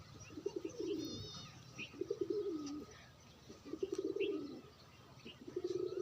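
Pigeons coo in repeated soft, throaty bursts, about four phrases spaced a second or so apart, nearby and fairly quiet, with a few light chirps and faint background noise.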